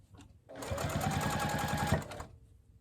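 A sewing machine runs one steady, close burst of about a second and a half, stitching a seam on a microwaveable bowl cozy, with quiet handling before and after.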